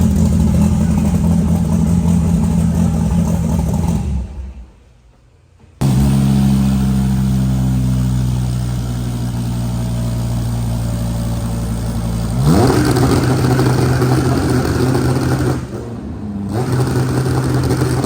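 A Dodge Viper engine at a car meet revs hard and loud, cuts out briefly, then roars back with a steady high growl and another surge near the end.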